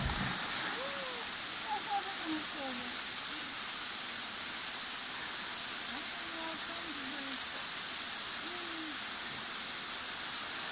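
A waterfall, with a person jumping from it into the water below, makes a steady, dense rushing roar throughout. Faint voices call out now and then beneath the noise, and no distinct splash stands out.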